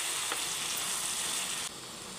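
Tomatoes and dried red chillies cook in a pan for tomato chutney, giving a steady close sizzle with a faint stir scrape early on. The sound drops slightly near the end.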